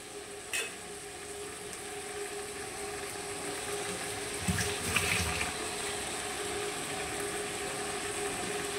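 Spice paste frying in a pan after a splash of water is added, a soft steady sizzle and bubbling with a few faint clinks and stirring sounds, fairly quiet throughout.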